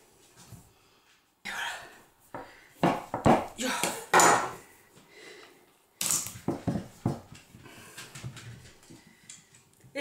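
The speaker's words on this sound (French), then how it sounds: "on va la couper en deux" A knife cuts a 1.7 kg butternut squash in half on a board, producing a series of close, crunchy, sharp cutting bursts in two bouts separated by a brief pause.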